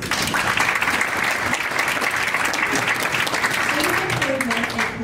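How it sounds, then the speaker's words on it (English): Audience applause at a board meeting, a dense, steady wash of many hands clapping that holds for about five seconds, with a voice starting to emerge near the end. "That deserves a round of applause."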